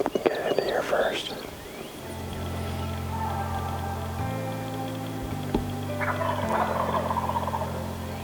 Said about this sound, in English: we're absolutely surrounded by gobblers this morning